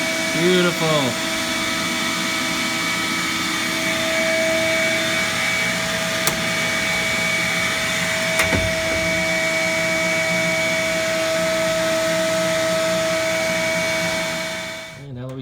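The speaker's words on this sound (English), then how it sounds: "I got the vacuum unplugged so it's not too loud here" Shop vacuum hooked to a sandblasting cabinet runs with a steady, loud whine and hum from start to finish, with a couple of sharp clicks midway before the motor winds down at the end.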